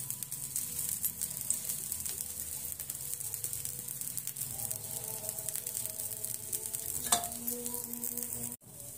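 Green moong dosa sizzling steadily as it roasts in oil on a pan, a continuous close frying hiss with a brief clatter near the end.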